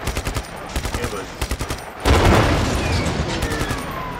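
Rapid gunfire in the video game Just Cause 3 comes as repeated short bursts, close and loud, then a heavy boom and rumbling roar takes over.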